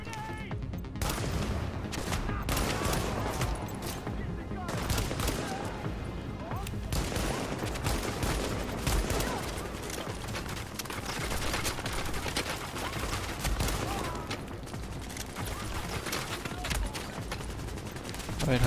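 Sustained gunfire in the video game The Division, rapid bursts of automatic shots and scattered single cracks layered densely and loudly, with voices talking over the shooting.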